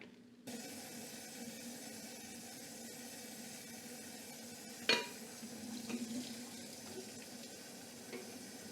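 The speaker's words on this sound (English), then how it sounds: "I just run it under cold water." Cold tap water runs steadily over freshly fried vegan chicken in a kitchen sink, a continuous rushing stream with a sharp clink of a pan or dish midway and faint shifting sounds later.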